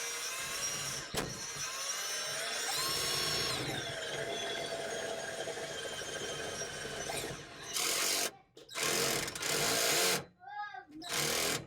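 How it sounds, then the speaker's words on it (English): A power drill strains against an IKEA MILSBO cabinet, whirring steadily up close, then cutting out and restarting in short bursts as the motor seems to struggle to turn. "I don't know if my drill is just not strong enough or too old and it does not want to turn"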